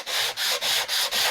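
Sandpaper rubbed by hand across the grain of a wooden board makes five strong, even rasping strokes, each separated by a brief pause, close up with no talk.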